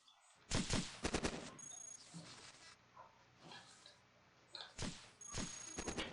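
Proton missiles firing in the turn-based video game Cogmind: several loud bursts of rapid, crackling explosive blasts in clusters, with quieter electronic game tones between them and no speech.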